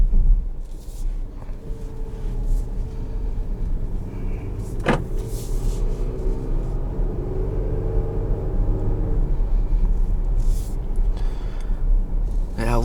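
A 2021 Jeep Grand Cherokee Overland driving over a road, heard from inside the cabin as a steady low tyre and engine rumble with a sharp thump from a bump partway through.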